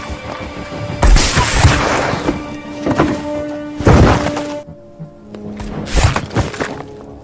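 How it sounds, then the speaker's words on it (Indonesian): Gunshots from a sniper rifle in a film sound as several heavy, booming blasts spaced a few seconds apart, each with a sharp crack and rumbling tail over a dramatic soundtrack. "tanpa ragu sedikit pun Raven melepaskan tembakan dan"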